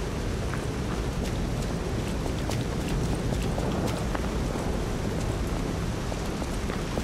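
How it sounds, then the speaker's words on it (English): Steady rain falls in Lies of P, a constant dense hiss with scattered sharper patters and drips, even in level throughout and heard alone without talk. "Can we get out of the rain?"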